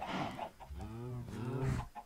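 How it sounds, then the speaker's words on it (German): Chickens in the Minecraft video game clucking and cackling in a short series of rising, warbling calls at close range, with game ambience beneath and no talk. "Liebes Gegacker."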